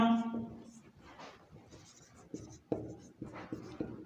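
Marker or chalk scratching and tapping on a board during a Class XII agriculture biochemistry lesson on naming amino acids, with short strokes and knocks under a teacher's talk.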